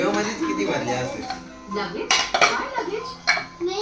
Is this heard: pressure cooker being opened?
yes